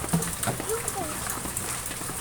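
Rain pours steadily in front of a house gate in Batangas, a dense hiss of drops on the ground with faint voices now and then underneath.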